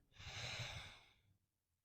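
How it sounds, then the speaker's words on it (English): A single slow, deep inhale during a yoga flow, airy and close, swelling for about a second before fading into quiet; no talking. "breathing in"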